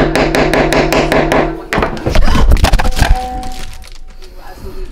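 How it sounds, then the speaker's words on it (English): Hammer driving holes into a leather outfit seam, a fast series of sharp regular strikes that breaks into a louder clattering crash and rattling knocks before fading. "So let's get to hammering some more of these holes in here."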